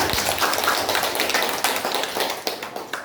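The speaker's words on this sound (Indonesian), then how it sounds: "Ya, tepuk tangan buat Ramadan." Students in an Islamic religious education classroom clap together for a classmate, a brisk, dense patter of hands that holds steady for a few seconds at close range.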